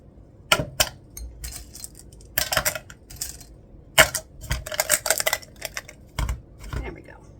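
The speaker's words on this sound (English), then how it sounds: "So I'm just going to add some stones to it." Stones are dropped into a pail for a Dollar Tree Easter centerpiece, making a series of sharp, irregular clicks and clatters spread across the clip, with some bursts closer together and some louder than others.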